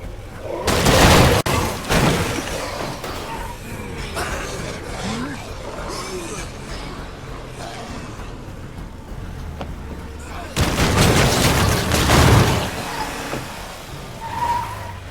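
Car driving through zombie ferals and hordes in State of Decay 2, with a loud engine roar and heavy thumping impacts at the start and again near the end, mixed with game noise throughout.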